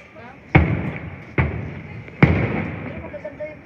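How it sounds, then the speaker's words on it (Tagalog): Fireworks burst in three heavy booms roughly a second apart, each followed by crackling decay, with people talking and exclaiming in the background. "Pero magaganda yung fireworks nila ngayon."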